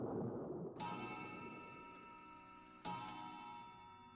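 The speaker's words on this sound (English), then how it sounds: "the clock struck the hour of 3" A clock strikes three o'clock: two resonant chimes, about two seconds apart, each ringing on with a long, sustained tone, against a low background rumble.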